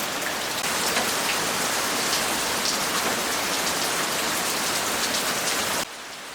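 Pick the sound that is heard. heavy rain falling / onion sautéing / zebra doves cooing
heavy rain falling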